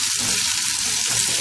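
Raisins and peeled almonds sizzle and fry with sugar in a pan, a close, continuous crackling sizzle with no break.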